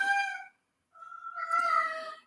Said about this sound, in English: that's my cat, and he screams